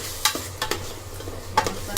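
Ground masala paste is sautéed in a pan for Malvani mutton, with a soft sizzle under several sharp scraping strokes of the spoon against the pan.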